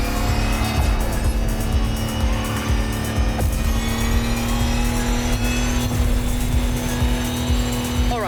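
A Lamborghini concept car racing at high speed in the Motorfest video game, its engine holding a loud, sustained high-revving whine with tire noise and occasional squeal, no voices.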